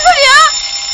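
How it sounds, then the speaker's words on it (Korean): An alarm rings from the room next door, a loud warbling electronic tone with wavering pitch that sounds for half a second and then trails into a steady hum. "가만 들어보니 그 소리는 바로 옆방에서 들려오는 알람 소리였는데요."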